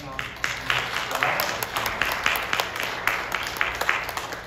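A church congregation at a Sunday worship service claps for a visiting pastor, the applause uneven with individual claps standing out, and voices murmuring underneath.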